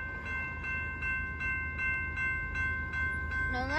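A long, heavy Norfolk Southern manifest freight train with distributed power units rumbles past nearby at night with a deep steady roar and rhythmic clacking of wheels. Sustained tonal whines ring above the rumble.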